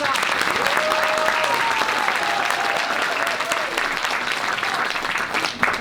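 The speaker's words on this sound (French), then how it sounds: "On peut les applaudir déjà." Parents and audience at a children's end-of-year theatre show clap in a steady, dense round that holds evenly throughout, with a voice faintly carrying over it.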